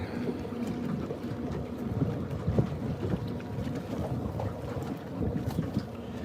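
Tugboat Crosby Leader throttling up in open water off St. Simons Sound, a steady low engine rumble and churn building slightly, mixed with wind buffeting the microphone.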